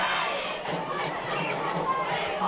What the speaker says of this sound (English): Cougar student body still here cheering on their team.